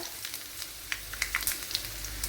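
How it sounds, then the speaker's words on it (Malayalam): Mustard seeds sizzle in a tablespoon of hot coconut oil while bitter gourd is being prepared, a soft, quiet frying hiss dotted with tiny irregular pops and crackles. "ഒരു ടേബിൾ സ്പൂൺ വെളിച്ചെണ്ണ ഒഴിച്ചു കൊടുത്തിട്ടുണ്ട് അതിലേക്ക് കടുക് ഇട്ട് കൊടുത്തിട്ടുണ്ട്"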